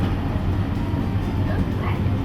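Steady rumble and rattle of an Irish passenger train in motion, heard loudly from inside a carriage as a continuous low-pitched roar.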